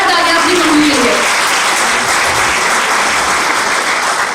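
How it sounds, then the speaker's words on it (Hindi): A seminar audience on women's safety and rights claps in a dense, steady wash of applause that holds loud throughout, with a voice briefly audible at the start. "बताओ यार तालियां अपनी मम्मी के लिए।"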